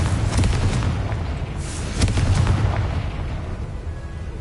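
Confringo fire spell explosion in Hogwarts Legacy, a deep booming blast with rumbling low end followed by a second burst, loud and sustained with no talk.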